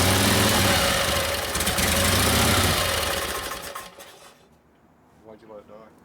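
A 1952 Harley-Davidson FL panhead with a Linkert carburetor runs loudly with a rough, clattering idle, then dies away to near silence near the end.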